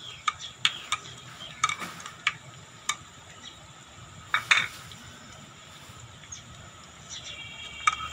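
Metal spoon scrapes and clinks against a pan as ginger garlic paste is added and stirred for liver and lung masala curry, sharp clacks spaced irregularly over a faint background hiss, no talk.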